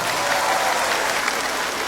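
An audience at the Chin Cultural Festival in Singapore claps for community leaders, a dense and steady burst of crowd applause that fills the whole moment.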